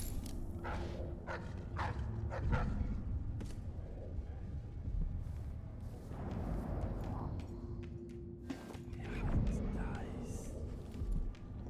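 A dog in the video game Dishonored 2 barks a few times in a dim basement, sharp yelps over low mechanical hum, with a voice speaking quietly at times.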